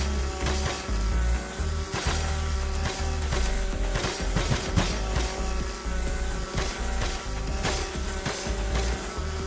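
A chainsaw slices through objects in the VR game Yeeps, giving a loud, continuous buzzing roar with ragged bursts of cutting noise and thuds throughout.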